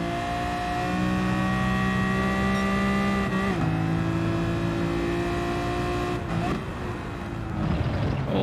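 Racing car engines in Gran Turismo 7, including a Nissan GT-R in the pack, drone in a sustained high whine whose pitch climbs, dips and shifts as the cars accelerate and change gear, with no talking.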